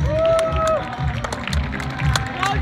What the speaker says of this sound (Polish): Serdeczne brawa!